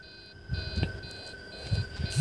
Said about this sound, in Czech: No a samozřejmě, že teď začíná alarm.